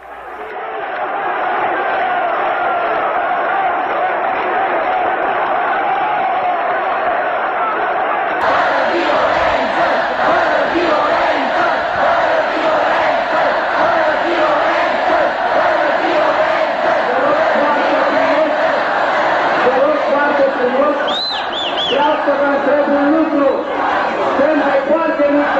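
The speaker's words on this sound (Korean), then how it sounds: "인민들은 야유를 보냈고 곧 거대한 반정부 시위로 돌변하고 말았다" A vast crowd of some hundred thousand people at Ceaușescu's December 1989 speech in Bucharest jeers and roars, a continuous loud din that swells partway through and keeps up throughout, with a few higher whistles or shouts near the end.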